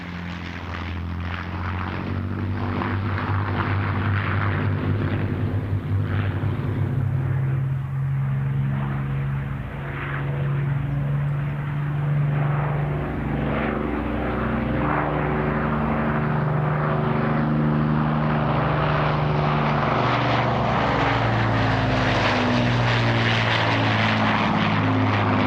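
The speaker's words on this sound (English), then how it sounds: "described the Lancaster as an aircraft designed by engineers and built by craftsmen and women" Avro Lancaster bomber with multiple propeller engines flying past at a British airshow, a loud, continuous droning roar with throbbing, shifting engine tones that swells and changes pitch as the aircraft passes.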